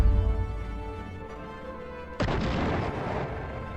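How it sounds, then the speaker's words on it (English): A sudden loud blast cuts in partway through over a steady tonal backdrop, followed by a sustained rushing roar of debris and smoke. "an explosion of green and purple smoke erupted"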